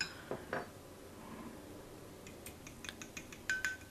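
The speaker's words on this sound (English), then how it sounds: "you can just mix it by hand like I'm doing now" A keto custard for crème anglaise, sweetened with stevia, is stirred by hand in a bowl, giving light scattered clinks and taps of utensil against the dish that grow brisker toward the end, with no talk.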